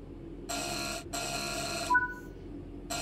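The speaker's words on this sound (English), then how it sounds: "Right, now we sound our buzzer." A train driver's buzzer in Train Sim World 3 on the Glossop line gives two distinct harsh electronic buzzes close up, followed by a short beep and the start of a third buzz, with no talking.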